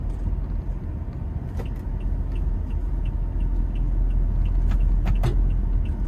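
A 2022 Toyota Innova 2.4 G with a manual gearbox climbs a steep hill, heard from inside the cabin as a steady low engine drone with a few faint clicks and rattles.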